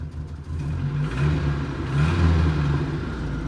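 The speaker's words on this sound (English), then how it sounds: "Give her a little bit of a rev." An abandoned Mercury Capri turbo engine, running again after 23 years and burning a little oil, revs up in two loud swells over a continuous low rumble.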